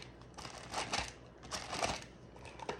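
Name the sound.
cream cheese being scraped off its paper wrapper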